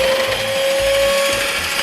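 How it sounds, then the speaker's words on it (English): Egg whites being whipped to soft peaks for a two-ingredient chocolate mousse, an electric mixer giving a loud, steady whine with a constant pitch and a rough rattle of the beaters in the bowl. "Our job now is to whisk this until it forms soft peaks."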